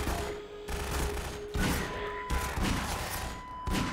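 Hand cannon revolver fire in the video game Half-Life 2: a few loud, booming shots in quick succession, each leaving a dense, ringing tail that blends into the game's background noise.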